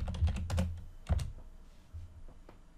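Typing on a computer keyboard: a quick run of close, soft key clicks, then a few scattered taps, with no talking.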